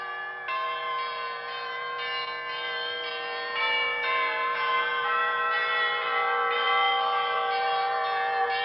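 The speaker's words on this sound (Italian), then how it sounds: "Sentite la campana!" A church bell rings out in a cartoon fantasy kingdom, with repeated bright strokes overlapping into a sustained, resonant peal that grows slightly louder midway.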